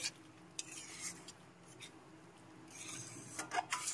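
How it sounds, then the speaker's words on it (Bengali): Potato curry being stirred in a pan, with coconut gravy, sugar and salt: soft, intermittent scraping and clinking of a utensil against the pan, quiet overall with a few brighter scrapes toward the end, no talking. "এখন একটু নেড়ে চেড়ে নিচ্ছি"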